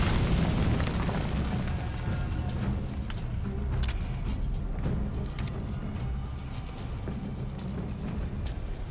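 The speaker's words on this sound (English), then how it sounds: "Grenade." A grenade blast in Metal Gear Solid V: Phantom Pain, opening with a loud boom that rolls into a long, dense rumble and crackling debris, slowly fading with scattered sharp pops.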